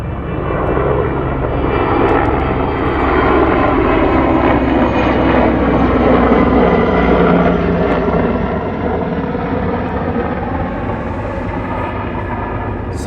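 Firefighting helicopters fly over the El Dorado wildfire in California in the evening, giving a steady, loud, continuous engine and rotor drone that slowly shifts in pitch for the whole stretch, with no voices.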